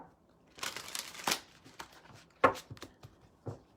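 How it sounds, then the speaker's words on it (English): A deck of tarot cards is shuffled by hand at close range during a live reading, giving bursts of riffling and slapping with short pauses between them. "one more shuffle"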